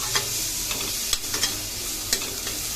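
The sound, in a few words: frying and stirring in a pan on high gas flame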